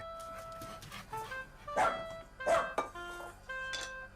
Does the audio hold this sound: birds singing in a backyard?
no